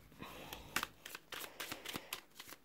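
Tarot cards are cut and shuffled by hand: a series of short, crisp riffling flicks and taps at an irregular rhythm. The sound is close and moderately quiet, with no talking.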